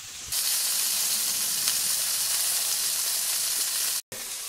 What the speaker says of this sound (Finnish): Sillä välillä kun burgeri paistuu taustalla,